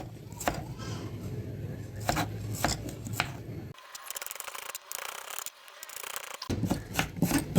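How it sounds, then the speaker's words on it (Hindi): Potatoes are cut with a knife on a board, sharp rhythmic chopping taps in close succession, with a pause of soft scraping between, while someone talks. "तो सारे आलूओं की इसी तरह से हम कटाई कर लेंगे।"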